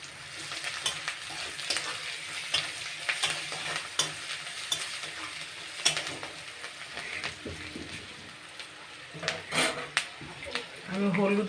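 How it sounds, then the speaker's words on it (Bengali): Onion frying in a pan with chili powder, a steady sizzle broken by the scrape and clatter of stirring. It is close-up and fairly quiet, with a voice faintly in the background. "পেঁয়াজটা একটু লাল করে ভেজে নেব"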